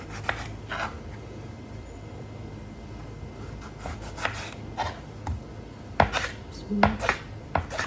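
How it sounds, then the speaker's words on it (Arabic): Knife chopping tomatoes and onions on a board in a home kitchen, scattered uneven taps that grow louder and denser toward the end, with a brief spoken phrase at the start. "بقطع طماط وبصل"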